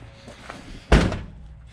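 A heavy car hood slams shut with a single loud, close thud that booms briefly and fades, with quiet shop ambience around it.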